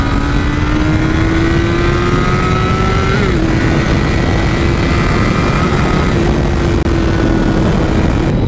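A Honda CBR1000RR sport bike engine pulls steadily while being ridden, its droning tone rising gently, dipping briefly as it shifts, then holding under a strong, constant roar of wind rush for the whole stretch.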